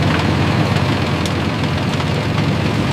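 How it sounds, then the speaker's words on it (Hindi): Sugarcane harvester and tractor engines run together at matched speed in a cane field, giving a dense, steady, loud mechanical roar with broadband rumble and no pauses. "हार्वेस्टर और ट्रैक्टर को एक साथ एक ही गति पर चलना पड़ता है।"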